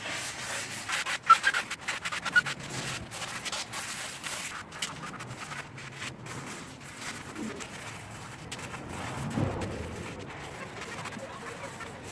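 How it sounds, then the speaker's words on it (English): An 80 grit sanding block scuffs a car rim with steady, close rasping strokes and uneven rubbing bursts, continuing without a break and with no voices. "80 grit sanding block"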